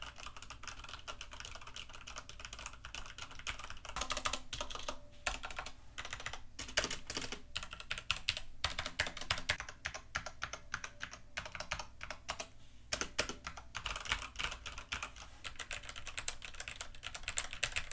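Typing on a Corsair K95 Platinum keyboard with Cherry MX Speed switches: a steady stream of quick, light key clicks with occasional louder strokes, close and fairly quiet, no speech.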